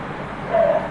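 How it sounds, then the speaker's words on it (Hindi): Dog barking nearby during a home lesson: a single short, faint yelp rising briefly over steady room noise, with no speech. "अगर मैं पढ़ाऊँ और मेरे यहाँ कुत्ते ना भौंकें, ऐसा हो नहीं सकता"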